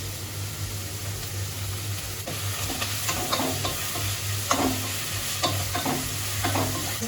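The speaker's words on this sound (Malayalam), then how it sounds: "ഇനി നമുക്ക് ഇഞ്ചി വെളുത്തുള്ളി പേസ്റ്റ് ഇട്ട് കൊടുക്കാം." Vegetables are stir-fried with ginger garlic paste, giving a constant sizzle under a steady low hum, broken by scattered scraping and tapping strokes of a spoon against the pan.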